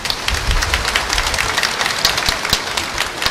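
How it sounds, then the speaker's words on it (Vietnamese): A church congregation applauding at a memorial anniversary gathering, a dense steady burst of clapping lasting several seconds with no speech over it. "Chúng ta vỗ tay để cảm ơn."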